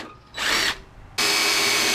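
A power tool whirs briefly on a fender bolt of a first-generation Honda Pilot, then cuts out and starts again in a longer, steady run, close and loud with no talking.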